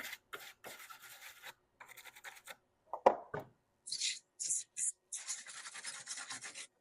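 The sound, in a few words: wire brush or razor blade cleaning burrs off conductor bar ends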